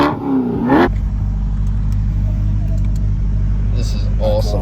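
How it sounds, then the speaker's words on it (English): Chevrolet C8 Corvette starting with a sharp rising whine and bark from the exhaust, then settling into a deep, steady close-up idle rumble, with a short blip near the end. "we'll fire this thing up. We'll hear the exhaust."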